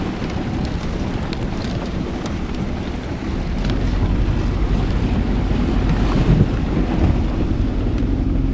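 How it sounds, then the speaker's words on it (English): Strong wind roars across an icy fishing spillway, battering the microphone with a loud, steady, broadband rush that swells slightly in the second half, with no voices. "And it's super windy on top of that."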